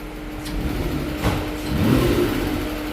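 A sludged-up Nissan NV 3500 engine runs close by and rises in a brief rev as the throttle is pressed, then settles back to a steady running drone.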